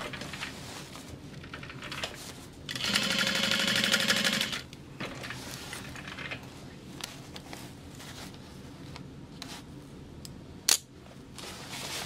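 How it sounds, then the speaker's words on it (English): Sewing machine baste stitching a large fabric bag, a steady close mechanical run of about two seconds, with fabric handling and light clicks before and after. "you can baste stitch that down before you move on to the rest of the bag"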